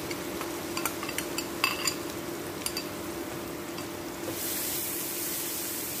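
Two chopped onions hitting a hot pan with asafoetida, then stirred with a utensil: scattered clinks and scrapes over a low sizzle, followed by a sudden louder hiss of frying.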